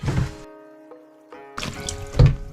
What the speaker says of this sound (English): it's already starting to self-drain out of the spinner